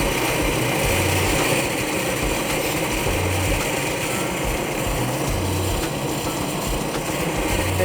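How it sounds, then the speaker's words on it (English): A steady whirring buff or polishing wheel works a knife blade, stripping the brown heat-treat film in a continuous loud grinding hum with no pauses. "So we're going to take that off. polish the blade."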